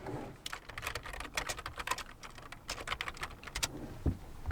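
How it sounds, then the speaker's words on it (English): Quick, light clicking of keys on a computer keyboard, a fast irregular patter of close keystrokes with short pauses, quiet and with no talking. "And in here we need to type Samsung drivers."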